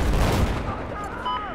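Gunfire in Battlefield, a burst of rapid shots up front that fades away over the rest of the short stretch, with faint pinging effects after it.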